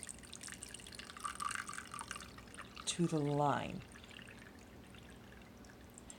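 Water is poured from a vessel into the small reservoir of a Desert Mist diffuser and fills it in a short gurgling run that rises in pitch as the level climbs. It sits close to the microphone, with a quiet voice speaking briefly before it.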